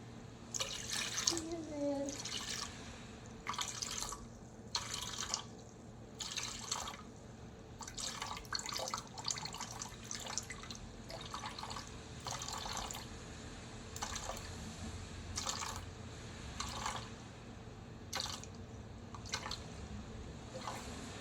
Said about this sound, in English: I'm gonna add 500 grams of water